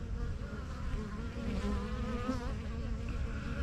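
Loud, continuous buzzing of many bees swarming close by at their hives, a dense droning hum that wavers slightly in pitch throughout.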